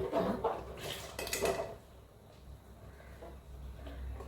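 A metal spoon stirs and scrapes semiya payasam, a sweet vermicelli pudding, in a pot. Close clinks and scrapes crowd the opening moments, then the stirring fades to faint, quiet sounds.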